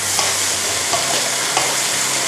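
Pork stir-fries in a pan for pink rice noodles, a loud, close, continuous sizzle with faint periodic scrapes of stirring.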